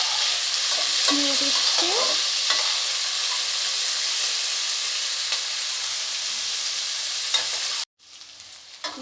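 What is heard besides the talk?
frying and stirring in a pan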